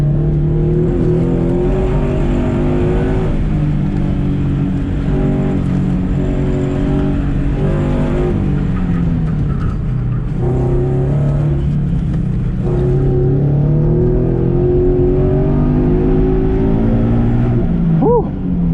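Scion FR-S sports car engine pulled hard during an autocross run, loud close revs that rise, drop under braking and climb again at full throttle, with a driver's voice over the engine.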